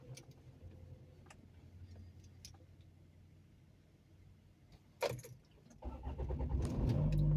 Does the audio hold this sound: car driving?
yes